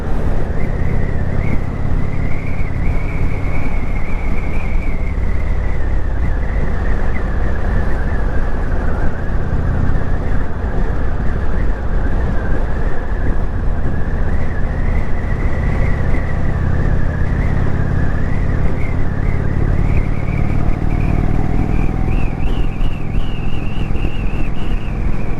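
Steady engine drone of a 2019 Indian Springfield motorcycle carrying a pillion on a winding road, heard from the rider's position with constant wind buffeting and a continuous low rumble that rises and falls slightly.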